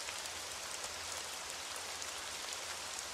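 Steady rain falls in a video game, a dense even hiss of drops continuing throughout without pause, fairly quiet and with no voices.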